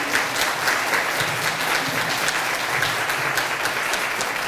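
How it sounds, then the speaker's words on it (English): Audience at a chamber legislative update event applauding a group of gentlemen; sustained, even round of clapping from a room full of people, close and continuous. "let's give these gentlemen a round of applause again"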